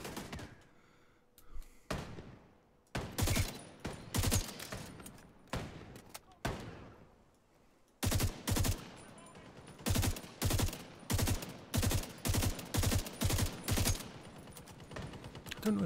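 Three-shot burst gun firing in a video game: repeated clusters of sharp, loud shots in quick succession, with brief pauses between bursts and a gap partway through, alone without talk.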